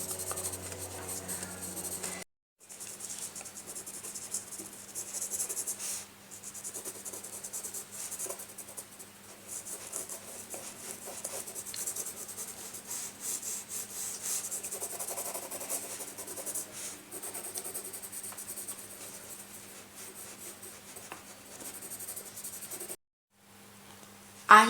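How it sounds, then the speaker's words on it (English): Pencil shading on paper while sketching a minaret, a soft continuous scratching and rubbing in short back-and-forth strokes, close and quiet, with brief pauses near the start and end. "In shading, you always have to move your pencil according to the shape of an object."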